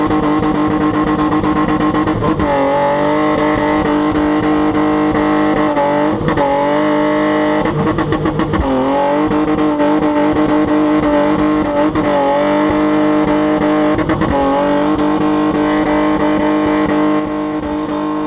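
A car doing a spinning stunt, engine roaring loud and close without a break, its revs climbing, dipping and surging again in repeated swells with a gritty, distorted edge; no voices.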